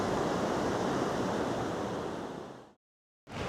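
Steady, broadband surf washes over a beach, a loud continuous roar of breaking waves with some wind on the microphone, cutting out abruptly near the end before resuming.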